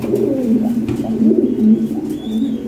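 High-quality Lahori pigeons coo close by, a continuous layered burble of low rolling calls with no talk over them.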